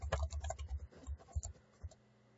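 Quick bursts of keystrokes on a computer keyboard typing semicolons into an AutoCAD custom line type file, a cluster of fast close taps followed by two or three isolated clicks, quiet and alone.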